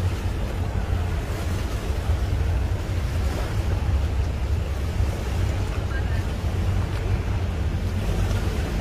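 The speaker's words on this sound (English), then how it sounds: "those waves are gonna take that truck away." Ocean waves and surf wash steadily and loudly near a truck by the water, with heavy wind buffeting the microphone throughout and no pauses.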